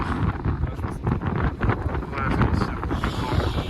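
Strong wind buffets the microphone on the coast at Étretat, a rough, continuous roar with gusty swells, and people talk faintly underneath.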